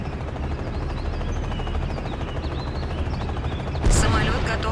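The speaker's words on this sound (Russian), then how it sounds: "Бомбы пошли." Steady rattling battle noise from the game Act of War: Direct Action carries on until a sudden heavy bomb explosion booms near the end.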